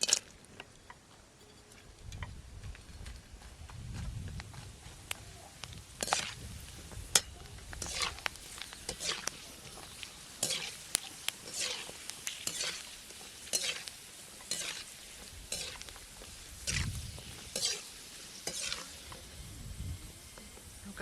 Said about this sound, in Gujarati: તળી નાખીએ આપણે